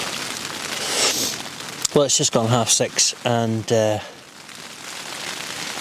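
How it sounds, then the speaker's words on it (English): Rain patters steadily on a tent while camping, a soft continuous hiss around someone speaking close by, carrying on alone after he stops. "as you can hear, the rain has arrived"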